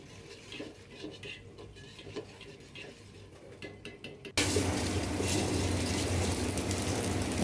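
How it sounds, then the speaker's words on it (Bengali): Chopped onions with shahi jeera, cardamom, cinnamon, bay leaf, ginger and salt frying in a pot; faint stirring and utensil clinks at first, then a sudden loud, dense sizzle that holds steady to the end. "লবণ দিয়ে আমি পেঁয়াজটা ভালো করে ভেজে নিচ্ছি"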